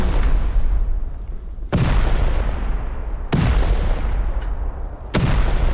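Three heavy booming shots from a three-shot weapon in the video game Rust ring out at even intervals, each a loud sharp crack with a long rumbling tail, with no talk.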